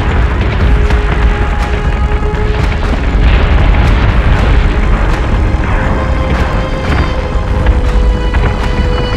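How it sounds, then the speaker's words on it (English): A ship in Battlestar Galactica Deadlock takes sustained weapons fire, a dense, unbroken barrage of loud booms and impacts rumbling continuously over a heavy low drone. "We're taking sustained fire!"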